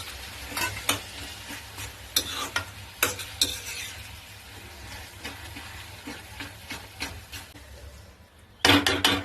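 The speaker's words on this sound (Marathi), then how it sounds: "आता याच्यामध्ये आपण जे भरीत काढून घेतलेले वांग भाजलेलं ते टाकायचं आणि चांगलं एकत्र करायचं" Roasted brinjal is mixed into a frying pan with repeated scraping, clacking strokes of a spoon over a low, steady sizzle, close up.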